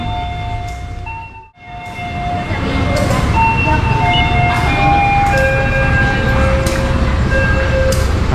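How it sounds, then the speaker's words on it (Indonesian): Walahar local train with a CC201 diesel locomotive at a station on the Purwakarta to Cikarang line, a steady loud rumble with tonal whines and brief horn-like tones, heard up close with people talking nearby. "Nah ini kereta lokal Walahar ini murah ya"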